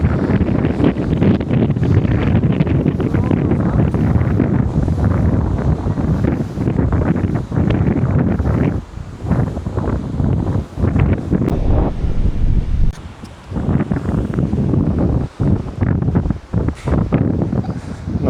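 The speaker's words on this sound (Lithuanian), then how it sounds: "vėjukas. Pučia" Strong wind buffeting the microphone on a seashore at Liepāja, with breaking waves, a loud continuous roar with gusty surges and brief dips throughout.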